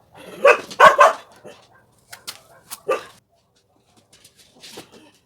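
Two loud barks from a nearby dog are followed by a few quieter yips and whimpers with pauses between them.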